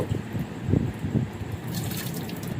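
Mushrooms being washed in a bowl of clean water slosh and splash close by in irregular bursts, with dripping and trickling water throughout.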